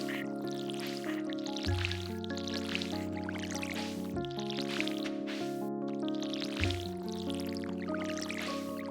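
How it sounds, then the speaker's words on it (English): Plants being watered in the farming video game Stardew Valley: soft, repeated watering-can drips and splashes layered over steady tonal background game music, fairly quiet. "We just gotta water the plants"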